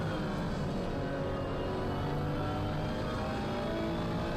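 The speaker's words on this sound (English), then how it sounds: "The Bentley sounds like an absolute rocket." A Bentley race car engine in the video game Gran Turismo 7 drones steadily and loudly throughout, a continuous roar with no speech over it.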